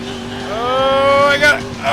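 A black and red Dodge Challenger-style Gauntlet muscle car from GTA IV drives with a rising engine tone that climbs steadily through its gears, loud and close, with someone talking over it.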